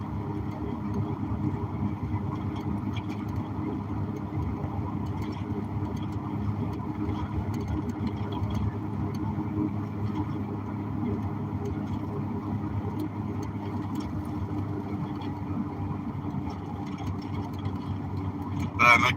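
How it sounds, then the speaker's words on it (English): A heavy truck hauling a Hitachi crane or digger passes with a steady low engine rumble and road noise, heard from inside a moving vehicle, with a brief louder swell near the end. "Boy, that's quite a load, brother. Hitachi crane or digger of some sort."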